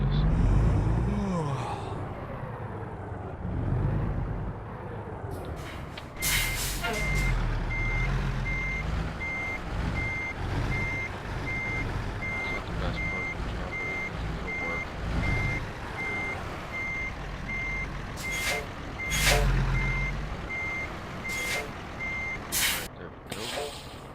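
Truck reversing beeps repeat steadily while backing up in American Truck Simulator, a regular electronic tone over a low engine rumble with air brake hisses and occasional breaths.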